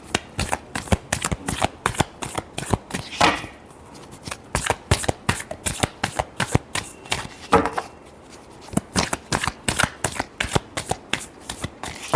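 Tarot cards are shuffled repeatedly at close range, giving a sharp, rhythmic series of papery riffling snaps with brief pauses between bursts, with no talk over them.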